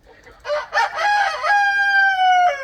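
A rooster crows loudly and close by in a long drawn-out call, with a few chicken clucks and squawks just before it.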